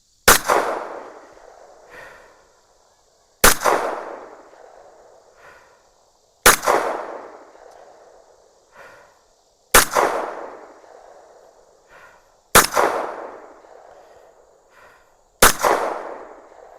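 Six loud, sharp shots from a Fusion Firearms 1911 pistol, spaced about three seconds apart, each with a crisp crack followed by a decaying outdoor echo, with no talking between them.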